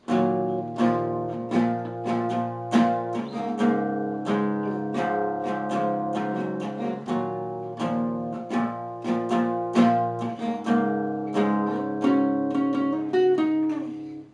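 A guitar plays a full riff, with all three parts joined in sequence: steady, strummed and picked chords ringing continuously at an even, moderate loudness, with no voices.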